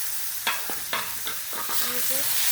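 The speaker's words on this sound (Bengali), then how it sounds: "মিক্স করা আদা আর জিরা বাটা দিয়ে দিচ্ছি" Ginger and cumin paste spits in a hot pan while a utensil scrapes and stirs in several distinct strokes, a soft sizzle running underneath, close up with no talking.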